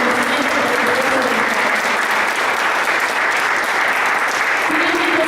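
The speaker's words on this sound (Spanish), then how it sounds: "A todos ustedes, un aplauso de reconocimiento por su trabajo" At the closing ceremony of a diploma course on transparency and data protection, a large audience gives loud, dense, sustained applause for the graduates. It runs unbroken for over five seconds, with a faint tonal hum underneath.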